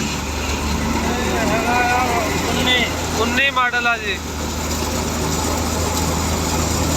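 A New Holland Dabang tractor powering a thresher at work, giving a loud, steady mechanical drone with rhythmic engine throb throughout, while people talk briefly over it.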